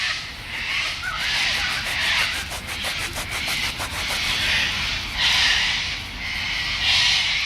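A dug-up 1936 penny being rubbed clean between the fingers, a steady scratchy, gritty rasp that runs on for several seconds, close and fairly loud, with no talking.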